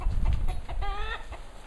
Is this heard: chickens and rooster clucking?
yes